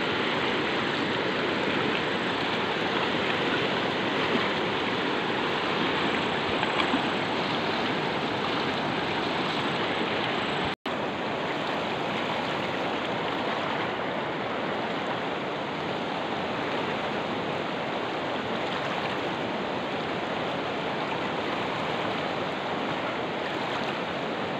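A big, flooded mountain stream in Nepal rushes past in a loud, steady roar of churning water, close and continuous with no voices, broken only by one momentary dropout.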